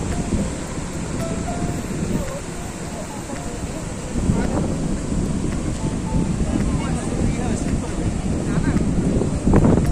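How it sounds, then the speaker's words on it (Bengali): Ocean surf rumbles and washes steadily on Shankarpur beach, with wind buffeting the microphone and a faint voice in the background. "শঙ্করপুরের সমুদ্র।"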